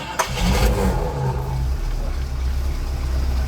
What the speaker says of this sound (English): Once more, let me hear that V8.